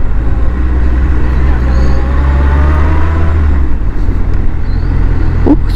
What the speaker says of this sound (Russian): Сколько машин, все куда-то едут.